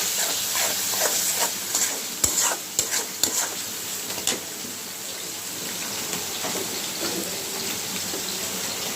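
Prawns fry in a pan of spices with a soft, steady sizzle, broken by a few sharp clinks and scrapes of stirring.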